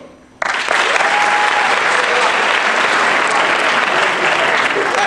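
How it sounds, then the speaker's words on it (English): A comedy club audience bursts into loud, dense applause after a brief quiet moment, the clapping sustained and steady for several seconds with crowd noise mixed in. "All right, by another round of applause"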